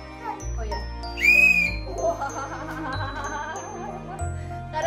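A toy police whistle given as a Christmas present gives one short shrill tweet amid jingling toy sounds and a child's chatter, over a constant low hum indoors.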